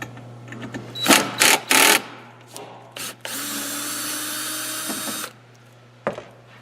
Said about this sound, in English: So what we're going to do is remove the first one on the bottom.